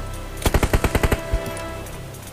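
Rapid SMG gunfire in the video game Peacekeeper Elite, a loud close burst of about eight evenly spaced shots, followed by one more isolated shot and quiet.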